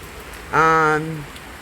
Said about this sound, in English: We've just been dealing with rain right now.